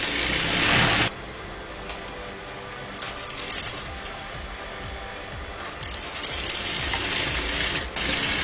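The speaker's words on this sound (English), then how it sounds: "you're going to sew that together" A sewing machine stitches the seam of a blouse, a close rapid mechanical whir in short runs with pauses between them.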